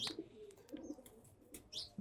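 Racing Giribaz pigeons just let out of a cage give off scattered coos and short chirps at close range, with a brief flutter of wings and light background noise.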